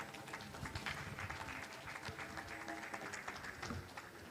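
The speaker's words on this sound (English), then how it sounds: "If you're clapping, you can do better." Applause from a summit audience, a dense, steady roll of many hands clapping together, fairly faint and continuous throughout.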